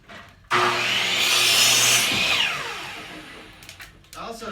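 Power saw ripping through wood, a loud continuous cut starting abruptly and running steadily for about two seconds before the whine tapers off into quieter workshop noise.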